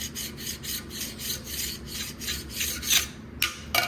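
A metal file rasps carbon off a Cummins 5.9 diesel cylinder head in steady, close back-and-forth strokes, a dozen or so rhythmic scrapes ending in a few sharper, quicker passes, with no talking.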